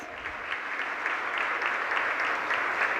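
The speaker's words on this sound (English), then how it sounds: "Let us welcome them with a big round of applause." Sustained applause from an audience greeting dignitaries, including a state governor and the AICTE chairman, at a skills university's foundation day celebration; steady dense clapping throughout, fairly close and loud.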